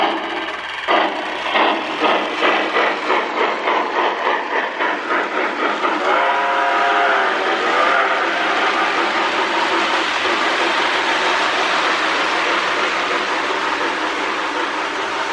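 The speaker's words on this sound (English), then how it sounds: "We got a rail sounds tender hooked up to it." A Lionel 2046 Hudson postwar toy steam locomotive with a RailSounds tender gives a loud, sustained whistle blast over rhythmic chuffing and wheel clatter, close and continuous with no talking.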